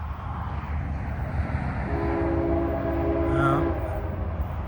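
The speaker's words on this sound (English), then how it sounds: "it's a CSX freight train, very weird." CSX freight train moving slowly northbound in Palm Beach County, a low rumble with a horn blast sounding midway, heard from trackside under a little background noise.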